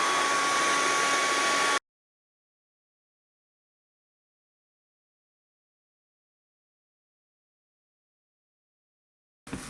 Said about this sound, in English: sometimes you can put the dryer right inside the loop. It dries the inside and it makes it stick up nice and pretty like that